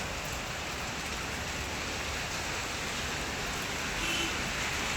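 Steady morning rain falls in an even, unbroken hiss, close and moderately loud throughout, with no voices and no thunder.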